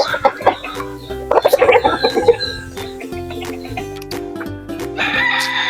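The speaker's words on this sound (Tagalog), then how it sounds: "Ito po yung manok na nag-viral sa TikTok natin mga idol." A white rooster crossed with Black Knight stock clucks and crows loudly at close range, with a raspy burst early on and a sustained call near the end, over quiet background music.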